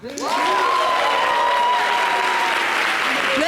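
A television studio audience bursts into loud, sustained applause mixed with cheering, keeping up a dense, even roar of clapping for several seconds.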